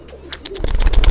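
Low, soft pigeon coos rumble close by inside a pigeon loft, a few murmuring calls building in the second half with faint rustling.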